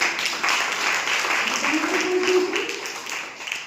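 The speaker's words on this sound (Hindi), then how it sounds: "एक बार पंचतुलसी के लिए जोरदार ताली हो जाए।" Audience applause at a direct-selling meeting in India, a broad steady wash of clapping from a crowd, with a faint voice briefly audible beneath it.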